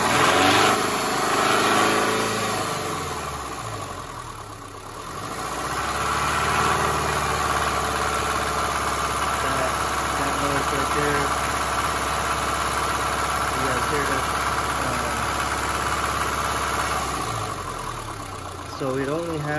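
A 1999 Subaru Forester with an EJ25 engine with a mysterious noise runs at a rough idle and then revs up and holds a steady drone before settling back, close and loud, while someone talks over it.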